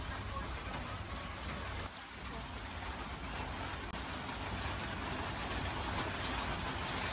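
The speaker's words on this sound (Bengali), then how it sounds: "বৃষ্টি একটু থামসাল, আবারও বৃষ্টি কেমন নেমে গেছে গা।" Steady rain falls on a village in Bangladesh, a continuous even hiss of drops on surfaces with no pauses, fairly soft and distant.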